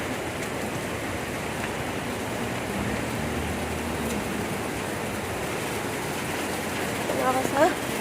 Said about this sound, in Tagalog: Mahangin yung ulan.